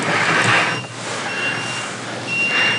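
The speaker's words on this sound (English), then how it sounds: "You have an alarm that's triggered." An over-current alarm on a Bluetti EP500 LiFePO4 solar generator sounds as thin, high, steady electronic beep tones, coming and going over a loud constant hiss of fan-like noise.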